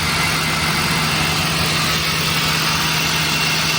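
A minivan engine, used for delivery work, idles steadily and close, a loud continuous rumble with a constant low hum and a broad whooshing hiss that stays unchanged throughout.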